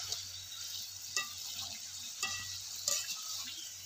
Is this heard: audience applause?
no